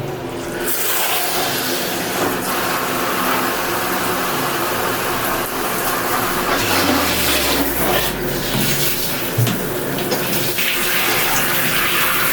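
A shower sprays water steadily onto a cat's fur to rinse out shampoo during grooming, producing a loud, continuous rushing hiss that runs unbroken throughout.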